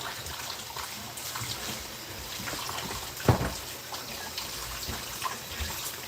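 Water running from a tap while hands are lathered and washed, a steady close splashing flow with a few small knocks and shuffles.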